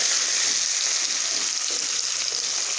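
Cumin and mustard seeds sizzling in hot oil, a steady close hiss with fine crackling throughout, unbroken and fairly loud.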